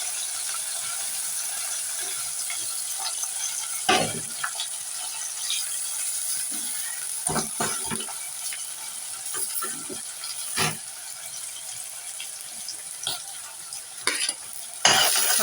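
Sliced onions and green chilies sizzle in hot oil for a simple tomato curry, a steady hiss broken by scraping, clattering stirs of a spoon against the pan, close up and without speech.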